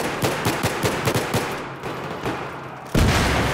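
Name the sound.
gunfire in the video game Battlefield 3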